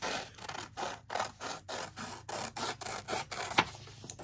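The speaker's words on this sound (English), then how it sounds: "it sounds like" A distant wood chipper grinds in steady pulsing bursts, faint and muffled, with rhythmic chopping noise repeating a few times per second.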